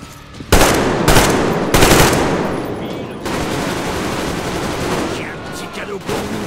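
Gunfire in the video game Metro Exodus: several loud, sharp bursts of rapid shots in quick succession, followed by sustained rattling and echoing noise, with no talk over it.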